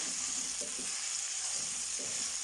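Chicken pieces fry in oil in a pan for chicken jalfrezi, giving a steady close sizzle with a few soft stirring scrapes and no talking.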